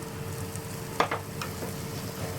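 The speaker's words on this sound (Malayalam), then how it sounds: "ഇനി നമുക്ക് സവാള നല്ലതായിട്ടൊന്ന് വഴറ്റിയെടുക്കാം." Onions sauté in a pan with a low, steady sizzle, broken by a couple of quick scraping stirs near the middle.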